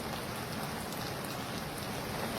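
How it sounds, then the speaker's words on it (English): A cup of water poured into a jar used for browning spices, a steady close rushing splash that fills the whole short moment without a break. "I'll add a cup of water."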